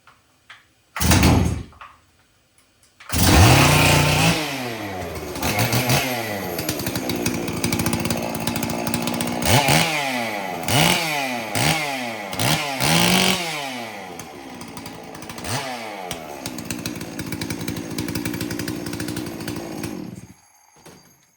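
A Holzfforma G466 Pro chainsaw engine on full choke pops once, then starts and runs loud and close, revving up and down repeatedly before settling into a steady idle-to-high roar.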